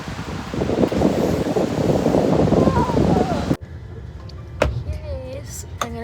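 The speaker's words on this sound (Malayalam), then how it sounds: "ഭയങ്കര കാറ്റും മഴയും തണുപ്പും." Strong wind and rain roar outdoors in Zurich, Switzerland, a loud gusty rush filling the first few seconds before cutting to quieter surroundings with a few sharp knocks.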